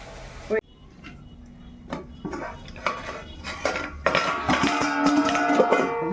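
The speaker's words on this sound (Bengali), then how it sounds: "এখানে মাংসটা কষিয়ে নিচ্ছি" Meat braising in a pan while a metal spoon stirs and scrapes it, producing irregular clanks and taps that grow busier and louder toward the end, with faint background noise.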